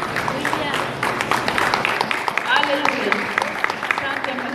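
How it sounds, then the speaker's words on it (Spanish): Church congregation applauding, a dense steady clapping from many hands with voices mixed in, moderately loud throughout. "Regalémosle un fuerte aplauso al Señor"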